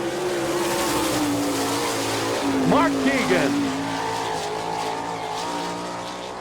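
A sprint race car with a J&J chassis and Kistler engine at an All Star Circuit of Champions dirt track in Chillicothe, Ohio, droning steadily with a rising and falling engine whine under an announcer's voice.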